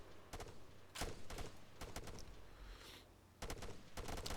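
Gunfire in the military shooter game Arma 3, a sequence of sharp, fairly quiet shots in irregular bursts and single cracks at long range, with no talk.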